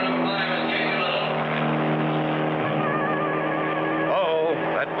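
Cartoon race cars from a 1959 Clutch Cargo animation speed around a track, a loud continuous engine whine with a brief pitch sweep near the end, all on an old, band-limited soundtrack.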